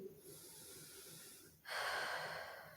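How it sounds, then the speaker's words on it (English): Audible breathing during a rest pause in a yoga and pilates flow, a soft quiet stretch followed by a louder, breathy exhale near the end, with no talking. "Just take a moment here,"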